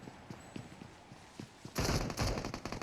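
Gunfire in the mobile battle-royale game PUBG Mobile: soft rhythmic thuds give way to a loud, rapid burst of automatic shots that runs to the end.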